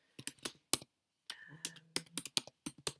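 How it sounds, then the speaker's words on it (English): Keys on a computer keyboard clatter in quick irregular bursts of close, crisp taps, pausing briefly before resuming, with a faint soft tone during one stretch. "I can type in whatever I would like to type into that section"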